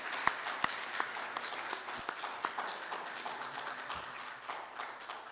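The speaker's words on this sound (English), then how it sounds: "if we could give them a round of applause too for helping that" A small banquet crowd at a band and choir event claps faintly and sparsely, with a few sharper individual claps standing out from the soft, scattered applause.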